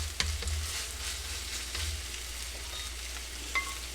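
Onions sizzling on a hot griddle for a Philly cheesesteak, a steady close hiss with a few scraping stirs of a spatula, no voices over it.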